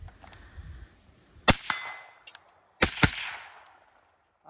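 Unsuppressed rifle shots from an AR-type rifle fitted with a bootleg bolt carrier group ring out at an outdoor range: two sharp close cracks, each followed by a quicker second report, with a brief metallic clang between them.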